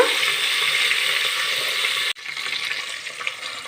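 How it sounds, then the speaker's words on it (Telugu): Mustard seeds, cumin, curry leaves and garlic sizzle in about four spoons of hot oil in a pan, a loud steady crackling hiss that cuts off briefly near the middle and then resumes slightly softer. "ఒక నాలుగు స్పూన్లు ఆయిల్ వేసాను అందులో ఆవాలు జీలకర్ర వేసా కరివేపాకుని వెల్లుల్లి రేపలు వేస్తున్నా"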